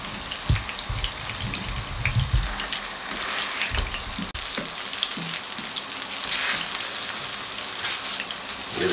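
Galouti kababs fry gently in a pan over a low flame, giving a steady, dense sizzling hiss throughout, with a few soft low knocks near the start and no talking.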